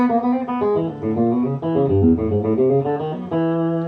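A twangy electric guitar plays a run of quick country licks, notes bending and sliding in a clean, lively solo phrase.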